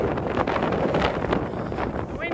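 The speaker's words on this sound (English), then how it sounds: "The wind came back." Strong wind buffets the microphone on an overland trip in eastern Oregon, a loud continuous rumbling roar with gusty swells throughout.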